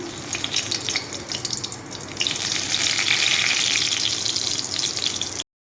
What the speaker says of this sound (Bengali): আর একটু তেল যোগ করে দিয়েছি লঙ্কা তেজপাতা